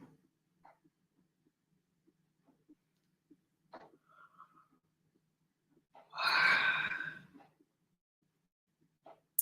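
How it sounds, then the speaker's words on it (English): A person yawns once, a long, breathy, voiced stretch lasting a few seconds, close and fairly loud against an otherwise quiet room with scattered small clicks and breaths. "So I'm yawning, so the channel is shifting."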